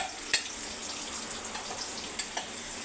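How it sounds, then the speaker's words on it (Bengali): Onion, tomato and chili fry together in a pan with a quiet, steady sizzle, broken by a few sharp clinks and scrapes of stirring. "ওদিকে পেঁয়াজ আর টমেটো আর লঙ্কা সাথে হচ্ছে,"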